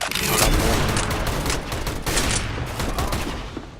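Rapid bursts of gunfire in Counter-Strike: Global Offensive, dense overlapping shots crackling loud and close for the whole few seconds.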